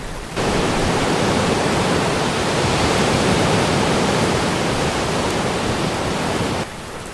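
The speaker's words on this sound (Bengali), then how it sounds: "সমুদ্র ফুসতেছে।" Raging sea waves in a cartoon ghost story, a dense steady roar of surging water that sounds loud and continuous, starting abruptly and cutting off near the end with no voices.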